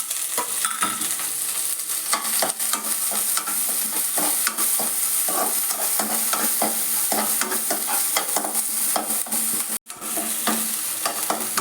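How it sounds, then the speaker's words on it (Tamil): Garlic, onion, green chili and curry leaves sauté in hot oil for cauliflower 65, giving a steady, close, dense sizzle with spoon-stirring scrapes throughout and one brief break near the end. "லைட்டாக வதக்கினா போதும்."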